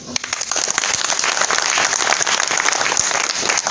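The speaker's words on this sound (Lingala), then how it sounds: "on va l'applaudir" Dense crowd applause for a committee member at a UDPS political meeting, many hands clapping loudly and continuously from start to finish.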